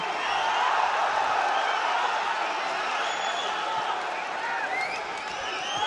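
Crowd noise at a Sanda World Cup fight, a steady, fairly distant roar of spectators cheering and shouting that holds evenly for several seconds.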